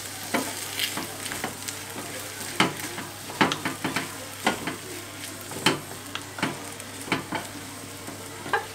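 Beaten eggs and new potatoes frying for a Spanish omelette with peppers, a steady pan sizzle punctuated by repeated sharp clicks and scrapes of stirring, close and without talk.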